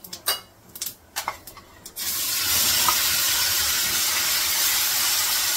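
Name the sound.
ground paste and cumin frying in hot oil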